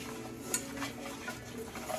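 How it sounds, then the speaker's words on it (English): Blueberry pie mixture with a pinch of kosher salt is stirred in a pan with a soft whisk, giving faint, soft scraping and light clinks, quiet and steady with no talk. "Stir it up with a soft whisk here."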